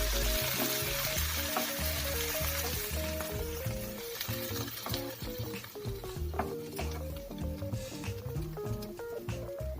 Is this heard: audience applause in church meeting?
no